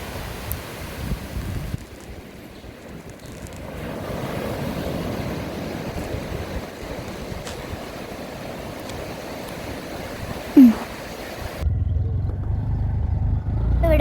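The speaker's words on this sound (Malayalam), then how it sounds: "ഇപ്പം നെക്സ്റ്റ് വെള്ളം വരുന്നുണ്ട് ഗൈസ്" Sea waves wash in at a fishing harbour, a steady broad rush of surf with wind buffeting the microphone, a brief sharp noise near the end and louder low rumble afterward.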